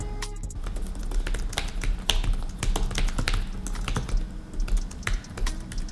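Rapid, uneven clicking of keys as someone types on a 2020 Surface Laptop Go keyboard, crisp and close, with a continuous flurry of taps and no speech.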